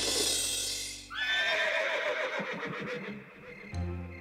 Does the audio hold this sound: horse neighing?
yes